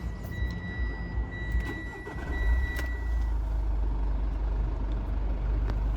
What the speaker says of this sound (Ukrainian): Зараз я вам його заведу, покажу як працює двигун